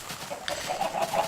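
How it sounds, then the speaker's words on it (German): A Minecraft chicken gives a few soft, short clucks, faint and close, over a low murmur of game ambience with no talk. "dort ist ein Huhn drin"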